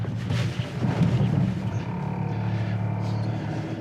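A 2025 Hyundai Santa Cruz engine is held at full throttle while driving off road, making a steady, heavy, low roaring drone that stays loud and even for the whole stretch.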